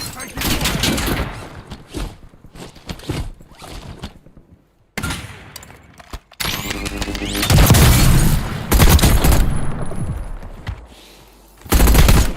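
Gunfire in a multiplayer shooter game, loud irregular bursts and rapid volleys separated by brief quiet gaps, with game voice callouts in between.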